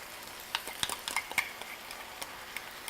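Sauce being stirred into a General Tso chicken stir-fry in a pan, with scattered light scraping and clinking of a utensil against cookware over a faint sizzle, fairly quiet and irregular.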